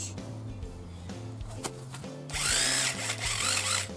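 Impact driver boring holes in wood while building a pizza oven roof, with a low steady motor whir that rises into a loud, harsh drilling burst partway through, close up and with no talking.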